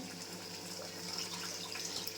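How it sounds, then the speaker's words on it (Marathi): Water pours into a pan of ground masala in a short, steady splashing stream, close by and moderately quiet. "त्यात पाणी ॲड करून घेऊया वाटणाचं."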